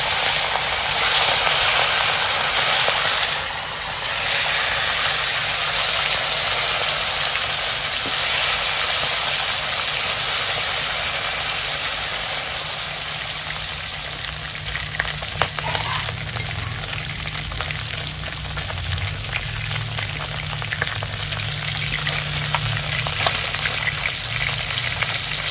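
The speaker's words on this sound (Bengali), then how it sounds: "আর এখন মাছ ভেজে নেবো।" Pieces of bhetki fish fry in hot oil with a loud, dense, continuous sizzle and hiss up close. The sound stays steady throughout, with occasional soft pops and bubbling, and no voices.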